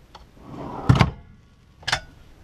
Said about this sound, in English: You have drawers on either side of the bed.